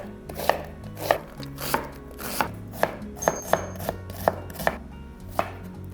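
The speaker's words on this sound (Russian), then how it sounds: "И мелко нарезаю одну репчатую луковицу." A knife finely chopping one yellow onion on a cutting board gives crisp, steady knocks, about ten sharp strikes at an even rhythm, close and fairly quiet with no talk.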